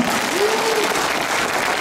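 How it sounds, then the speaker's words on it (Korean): An audience at a classical vocal concert applauds, a dense, even wash of many hands clapping throughout, loud and sustained without pause. "박수 한 번 쳐주세요."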